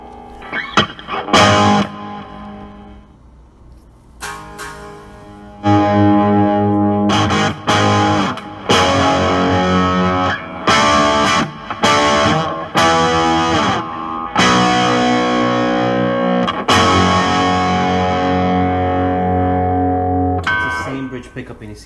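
An electric guitar plays through the distortion channel of a Marshall Code amp, with loud, sustained, buzzing chords separated by brief gaps.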